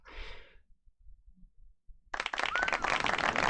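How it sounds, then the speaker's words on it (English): A small group at a football card box break gives a short round of applause after a brief breathy sound and a quiet pause. The clapping is close and fairly loud and runs to the end. "Can we get a round of applause for pricing your cards?"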